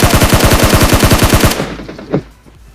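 Rapid automatic gunfire from a video game, a fast even burst of about fifteen close, loud shots that stops abruptly, followed by a brief fainter thump and quiet.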